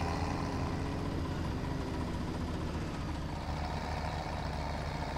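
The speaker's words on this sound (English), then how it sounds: "But this tractor does struggle to get up a little bit." A tractor in Farming Simulator 17 labours uphill on a logging track, its engine a steady, dense low drone with constant rumble and no pauses or talk.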